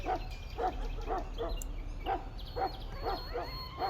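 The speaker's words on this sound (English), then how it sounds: "I fear your hound has the kitchens in uproar once again" Mabari war hound in Dragon Age barking in a steady series of sharp, close barks with short gaps, some yelps among them, over a low background rumble.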